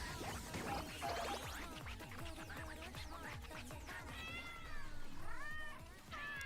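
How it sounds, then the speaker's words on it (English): Cats fight in the video game Once Upon A Katamari, with yowling meows and caterwauls over a jumble of scuffling and thumping game sounds. "Is there a cat fight going on?"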